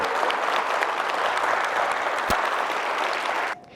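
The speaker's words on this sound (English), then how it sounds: "let's give them a big round of applause" An audience at the Creekside KSA school awards ceremony applauds a group of fourth-grade students, with steady dense clapping at full volume for about three and a half seconds before it cuts off abruptly.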